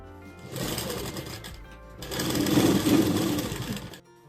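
A sewing machine runs in two fast stitching bursts while a 36-inch princess-cut blouse is sewn, with a brief pause between them and a louder second run that stops abruptly.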